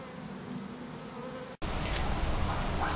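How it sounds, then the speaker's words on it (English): A honey bee swarm buzzes at a new hive in a suburban garden. The droning hum is loud and dense, and it cuts out briefly before resuming even louder and closer. "that's the new hive now set up with the swarm brought here in our very own bee box"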